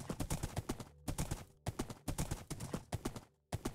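A horse gallops in a video game, its hooves clip-clopping in fast, even bursts of loud beats separated by brief pauses.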